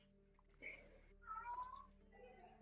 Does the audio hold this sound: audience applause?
no